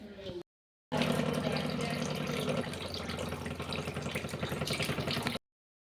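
Water pours steadily into a cooking pot for gulab jamun sugar syrup, a continuous close splashing flow that starts after a brief pause and runs for several seconds with no talking.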